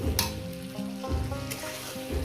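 Steady loud sizzling and frying crackle from a pan of rohu fish curry with potatoes as boiling hot water goes in, with a few stirring scrapes and no talking.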